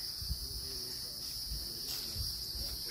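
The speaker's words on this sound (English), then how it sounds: "Some crickets on there." Crickets chirp in a garden as a steady, high, continuous trill, with a faint low rumble underneath.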